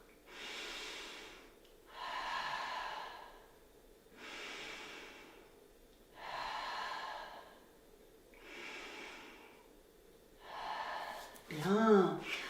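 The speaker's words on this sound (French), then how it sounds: "Je respire." Slow, deep breaths during a seated stretching exercise, six airy exhalations in a steady rhythm about two seconds apart, close and soft, ending with a brief voiced sound.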